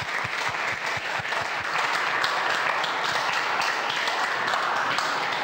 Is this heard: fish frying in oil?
no